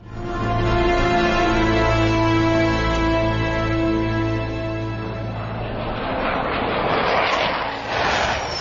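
Fighter jets roaring past, a loud sustained engine tone with strong harmonic whine that holds steady, then gives way to a broader rushing blast of jet noise toward the end, with no talking.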